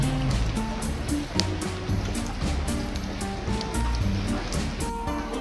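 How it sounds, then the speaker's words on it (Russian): Heavy rain hisses steadily nearby, with a dense, constant wash of noise and a few faint background sounds mixed in. "Очень сильный дождь"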